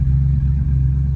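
A 1958 Plymouth Belvedere's 392 Hemi V8 idles with its exhaust switched to the quiet setting, giving a steady, loud, close low rumble with an even pulse throughout.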